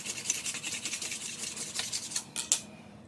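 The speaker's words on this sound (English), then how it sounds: "We roll it this way to try to loosen it some." Cotton fire roll being rolled back and forth by hand to ignite it, a steady close rubbing and scraping with a few sharper scuffs near the end.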